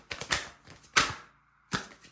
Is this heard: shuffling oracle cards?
yes